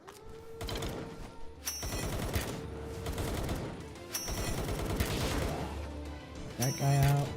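Rapid automatic turret gunfire from the video game Palworld, sustained bursts of fast shots with booms and mechanical clatter layered over game music, loud and continuous throughout.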